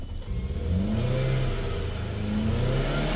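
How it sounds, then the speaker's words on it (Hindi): A Ford Figo petrol engine with a suspected misfire and about 92,000 km on it is revved up and held high, a loud, close, steady roar with a rising whine and no talking. "पहले एक बार रेस दो, हाँ दो, दो, बस।"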